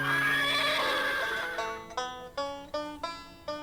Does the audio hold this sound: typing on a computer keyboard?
no